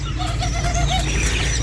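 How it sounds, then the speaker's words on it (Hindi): Doves calling in a home mini zoo enclosure, a short run of soft repeated coos over steady low background hum, fairly close and continuous. "ये सर फाख्ता वगैरह है।"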